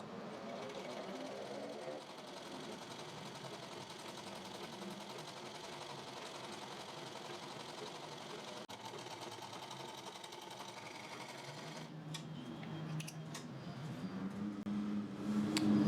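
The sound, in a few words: sewing machine stitching a folded fabric strip on neckline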